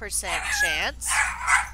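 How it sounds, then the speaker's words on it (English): Dogs in a room bark and yip in a couple of short, loud, close bursts that mix with a man's speech. "Excuse the dogs."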